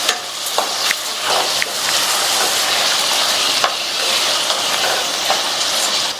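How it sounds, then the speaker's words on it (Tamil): Tomatoes sautéing with rock salt in a pan for tomato rice, giving a steady, close frying hiss and sizzle throughout, with a few light stirring scrapes and clicks. "அதை சேர்த்துட்டு தக்காளி வதங்குறதுக்காக இது கூட கொஞ்சமா கல் உப்பு சேர்த்து வதக்கிக்கலாம்."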